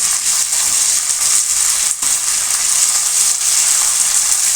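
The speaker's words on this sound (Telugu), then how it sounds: "ఇది పచ్చివాసన పోయేంతసేపు ఆయిల్లో ఫ్రై చేసుకోవాలి" Ginger garlic paste frying in hot oil, a dense, even hiss that stays loud and close throughout with a brief dip partway, no talking.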